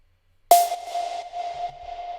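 A processed synth pluck made in Logic Pro X, part of a future rave drop: a sharp bright attack followed by a sustained tonal ring with rhythmic gated repeats fading slightly, alone with no talk.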